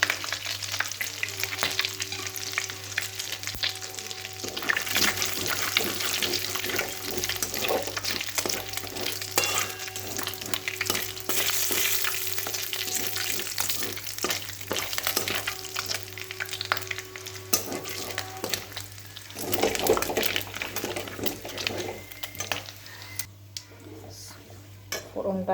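Cumin seeds sizzle in hot oil for tempering while a spoon stirs and scrapes against a pan, with the frying hiss steady and close. Occasional clinks of utensils and brief talk come in between.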